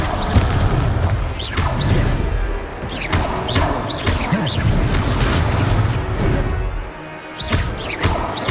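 Repeated spell blasts from Confringo in Hogwarts Legacy, booming crashes and thuds recurring every second or two over a dense, continuous game soundscape of whooshes and impacts, with no talking.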